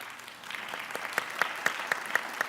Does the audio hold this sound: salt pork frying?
no